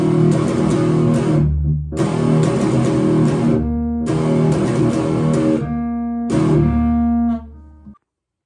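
An electric guitar plays the closing power-chord riff of a song, with three heavy sustained chord bursts separated by short gaps and a final stroke that rings out and then stops.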